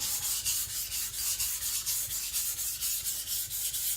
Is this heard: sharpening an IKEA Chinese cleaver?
yes